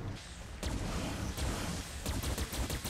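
Rapid gunfire from a custom weapon in the video game Killing Floor 2, with sharp repeated shots in irregular bursts over a dense, loud backdrop of combat noise.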